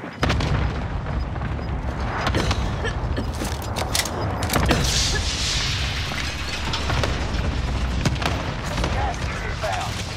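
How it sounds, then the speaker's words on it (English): A cluster strike in a battle royale shooter game: many booming explosions crack and rumble close by, one after another, over dense continuous battle noise, with some talk mixed in. "Cluster strike is active."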